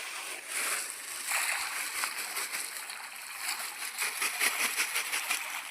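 A handful of rice and flowers is tossed into flowing canal water, giving a soft splash over the steady rush and burble of the current, close by.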